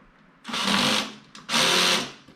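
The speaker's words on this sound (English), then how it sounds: "If you haven't worked with a drill like this, don't go over with it too much." A power drill driving screws into a ladder bookshelf, two loud, close whirring bursts of about half a second each, separated by a brief pause.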